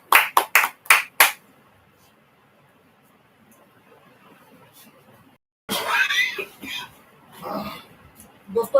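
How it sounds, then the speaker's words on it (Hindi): At a live business seminar, a few loud, sharp hand claps ring out in quick succession, then near silence, then a burst of crowd noise with laughter and chatter. "आपकी जोरदार तालियों के बीच में"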